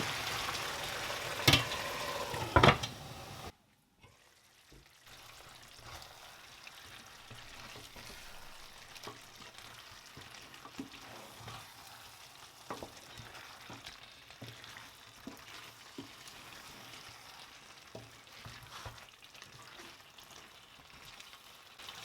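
Spicy peanut chicken simmering in a covered pan, a steady soft bubbling sizzle with faint crackles, preceded by a brief louder clatter at the start.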